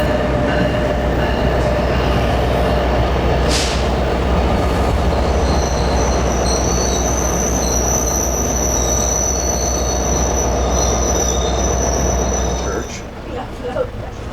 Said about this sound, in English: here comes our train, which will be taking us west